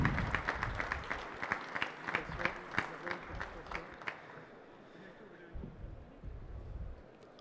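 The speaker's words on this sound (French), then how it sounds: "Cette remise mérite également un tonnerre d'applaudissements." A crowd applauds at a trophy presentation during a business industries trade fair in Reims, strong clapping that gradually fades out over several seconds and gives way to quieter room noise and faint voices.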